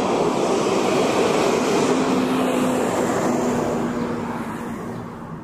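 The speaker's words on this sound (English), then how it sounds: "here comes a truck." A truck passing along a city street beside a park plaza, its loud broad engine rumble and tire roar dominating at close range, then slowly fading as it moves away.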